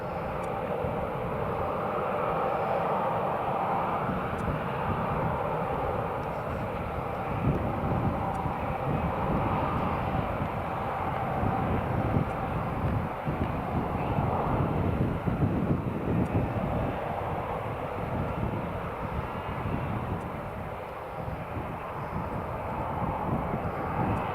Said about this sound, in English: Right, Sun Express just taxiing now.